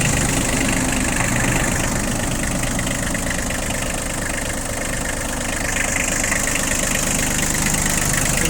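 A cold Kubota Bulltra diesel tractor engine idles roughly up close, a loud constant clattering chug with a faint knocking rhythm and no talking.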